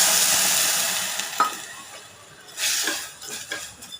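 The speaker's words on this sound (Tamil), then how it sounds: "பால் ஊற்றி" Milk is poured into a pan of lightly ghee-roasted vermicelli and starts cooking. There is a hissing sizzle with soft stirring and a few utensil clinks against the pan, all close and moderately loud.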